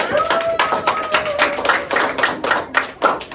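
Students in a junior high classroom clap for a presenting group, a lively burst of close, uneven hand claps with some voices mixed in.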